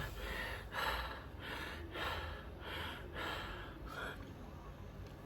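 Someone takes a series of deep breaths, about five drawn-out inhales and exhales in a slow rhythm, close and fairly soft, without any talking.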